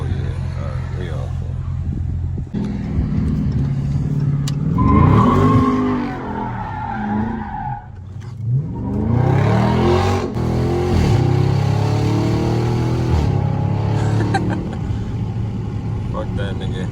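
Dodge Charger Scat Pack with traction control switched off, accelerating hard with rising engine roar and tire squeal, while people talk and shout inside the car.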